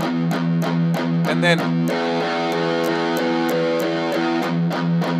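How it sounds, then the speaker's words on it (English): A sustained distorted electric guitar chord rings steadily with sharp picking attacks, while a voice speaks briefly over it. "So we just put on some distortion."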